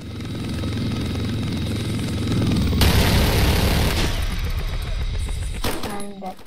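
In the video game Blackhawk Rescue Mission 5, loud, steady helicopter rotor roar with rumbling engine noise, a burst of harsher crashing noise in the middle, then a sudden clattering impact near the end as the helicopter crashes.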